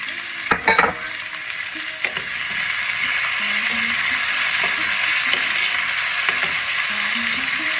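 Tomato being added to pumpkin and potato already frying with Malabar spinach (pui shaak) in a pan, giving a steady close sizzle with a few scraping stirs near the start.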